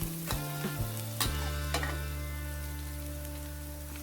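Garlic stir-fries steadily in a hot wok, with a few sharp clanks of a utensil scraping metal early on, then a continuous loud frying hiss.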